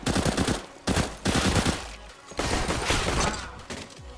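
CZ-75 pistol fired in CS:GO in rapid automatic bursts, with sharp, loud shots in quick rhythm broken by short pauses between strings of fire.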